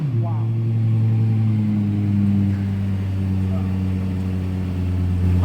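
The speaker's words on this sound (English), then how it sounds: "you wouldn't want to change the exhaust note on this car" A Lexus LFA's deep, resonant exhaust burbling at idle and rising briefly with revs, close and loud.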